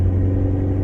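A C7 Corvette V8 with a throttle controller fitted, a steady deep low rumble at close range, held without a clear rise in revs.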